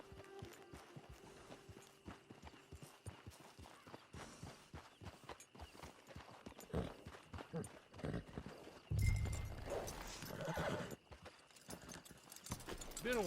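Horse hooves clip-clop steadily on the ground in the video game Red Dead Redemption 2, a continuous walking rhythm at moderate distance under ambient game sound, with a louder burst of movement partway through; no talking.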